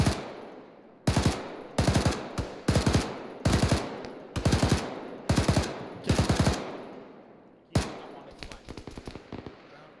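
Sharp bursts of gunfire in the Arma 3 video game, about ten short volleys in an uneven rhythm, loud and close with echoing tails, ending in a longer rattle.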